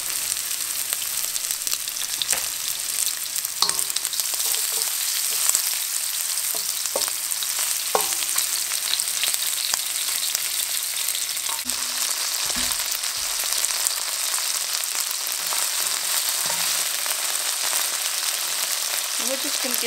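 Small chicken pieces frying for an orange ginger chicken stir-fry, a loud continuous close sizzle with occasional clinks and scrapes of stirring, no talk over it.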